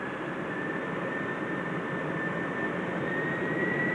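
Boeing 707 jet airliner taking off in a strong crosswind, a steady, loud broadband jet engine roar with a sustained whine, continuous and unbroken throughout with no voices.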